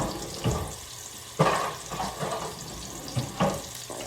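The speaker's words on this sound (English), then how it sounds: "I'm gonna clean my hands" Running tap water splashing over hands being washed in a kitchen sink, an uneven rushing flow with louder surges as the hands move under the stream, close by and without speech.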